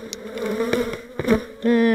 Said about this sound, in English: And the bees dive straight in.